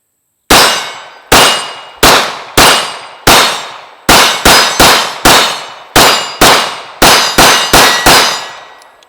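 Pistol rounds ring off steel targets at 12 yards, a rapid string of about fifteen loud, sharp metallic clangs with brief gaps and ringing decay, no voices.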